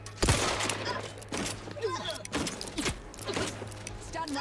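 Gunfire in the video game The Outer Worlds 2: several sharp bursts of shots spaced roughly a second apart over a steady low hum, with a synthetic voice speaking between them.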